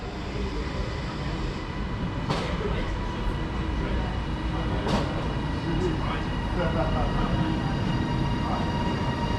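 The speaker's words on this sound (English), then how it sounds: "approaching now is the 11:38 Transpennine Express service from Glasgow Central to Manchester Airport" A Transpennine Express passenger train approaches Lancaster station on the West Coast Main Line, a steady rail rumble with faint clicks and brief sharp squeals, heard at moderate distance under ambient station noise.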